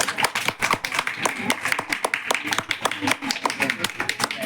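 An audience claps for a child's poem recital at a Saraswati Puja prize event, producing rapid, uneven hand claps close by, with some speech mixed in.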